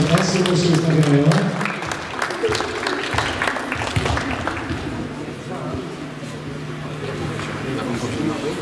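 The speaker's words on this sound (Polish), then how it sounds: "Wielkie brawa dla dziewczyn." Audience applause for a girls' primary school football team at a district youth football final, steady clapping under a loud announcer's voice and crowd noise throughout.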